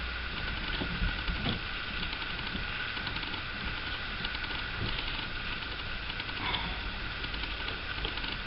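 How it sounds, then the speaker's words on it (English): A small screw on a vintage sewing machine's stop motion mechanism is being undone, giving faint, continuous metallic ticking and grinding with a few brief clicks, steady and close, with no talk. "we need to take off the stop motion screw by undoing this screw here"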